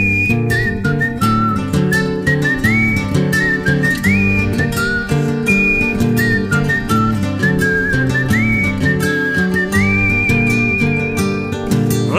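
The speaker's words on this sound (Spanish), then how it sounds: "Me distingo en el silbido porque no nací canto." A clear melodic whistle carries a tune over a steady guitar-and-bass accompaniment, sliding between sustained notes throughout.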